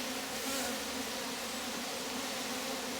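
Honey bees swarm around a Rose hive, a dense, steady buzzing drone that fills the space close by, continuous and loud with no voices over it.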